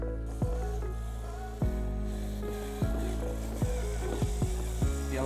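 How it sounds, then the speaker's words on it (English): Top shell being worked off an Inmotion V10 electric unicycle after its screws are removed: a series of sharp plastic clicks and snaps at irregular intervals, close and fairly quiet, with no speech. "you can then go ahead and take off this top shell"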